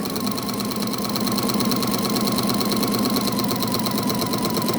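A sewing machine with a walking foot stitches through quilt layers in a continuous loud, close whirring drone with a fast mechanical pulse. It runs steadily and without a break the whole time.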